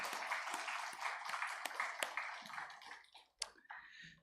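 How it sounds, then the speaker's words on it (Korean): Church congregation applauds its teens and young adults during a Sunday worship service, faint, scattered clapping that thins out after about three seconds, leaving a few isolated taps. "우리 청소년 청년들을 위해서 격려의 박수 한번 하도록 하겠습니다"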